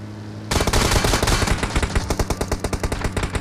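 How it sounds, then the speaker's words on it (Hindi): Automatic gunfire in the PUBG Mobile battle-royale game, a sudden loud burst of rapid, evenly spaced shots that rattles on continuously close by. "अब ये लोग हम पे काफ़ी ज़्यादा सही वाला फायर कर रहे थे और मेरे टीममेट भाई थॉमसन पे सप्रेसर लगा के"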